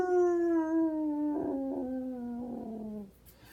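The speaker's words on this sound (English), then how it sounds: "And they howled at the moon." A dog gives one long, sustained howl that slowly falls in pitch and wavers with a few quiver breaks. The sound is close and clear, and no other voices can be heard.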